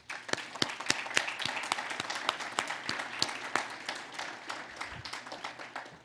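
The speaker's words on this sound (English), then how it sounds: "Let's give them a round of applause." An audience at a Canadian volunteer awards ceremony applauds, many hands clapping in a dense burst that gradually thins and fades toward the end.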